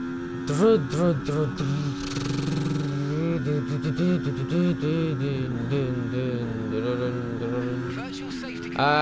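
A voice mimics a Formula 1 car engine, buzzing and rising in pitch through repeated revving sweeps and gear-change drops, loud and close, continuing for several seconds.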